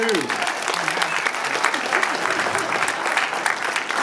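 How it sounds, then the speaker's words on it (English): Audience applause at a zombie movie premiere Q&A, a dense steady wash of many hands clapping at close range, with some voices mixed in. "Big round of applause for Jason Sanders."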